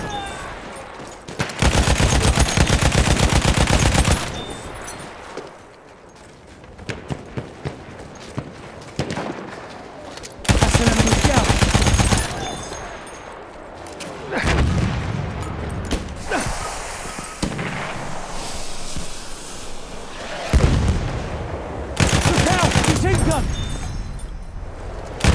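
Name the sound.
machine gun fire in video game Battlefield 1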